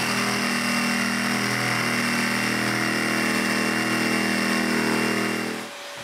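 A saw fitted with a diamond-dust coated blade cutting an opening in a wooden bathroom cabinet, a loud, steady, high-pitched motor whine held close for about five seconds before it winds down.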